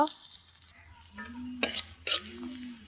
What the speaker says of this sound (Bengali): এই তো আমি কড়াইতে কাঁচামরিচ পেঁয়াজ ভাজে নেব